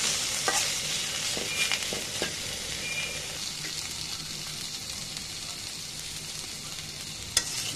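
Food frying in oil flavored with chopped onion while its water cooks off for a Bengali mashed dish, a continuous close sizzle with scraping stirs and a sharp utensil knock near the end.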